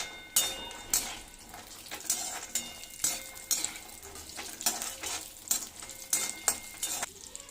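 Cashew nuts fry in a pan for a no-sugar dry fruits laddu, with a soft sizzle under repeated scraping strokes of a spoon, each stir landing in an uneven rhythm, fairly quiet and without talk.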